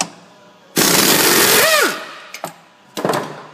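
An impact-style power tool rattles loudly in a short burst for about a second, backing out a 14 mm pinch bolt on a Ford Fusion front strut, followed by a couple of faint clicks and a second brief burst.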